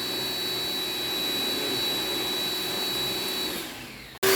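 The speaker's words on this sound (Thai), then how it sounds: "ก็จะดูดฝุ่นทำความสะอาดภายในรถให้อีกหนึ่งครั้งนะคะ" A vacuum cleaner runs steadily inside a BMW X1 after air-conditioner repair work, a loud continuous whine that stops abruptly near the end, followed by a brief different burst.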